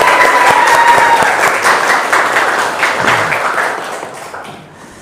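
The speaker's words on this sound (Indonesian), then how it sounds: "Tepuk tangan." Students in a high school class clap together in sustained applause, loud and dense at first, then thinning and fading toward the end.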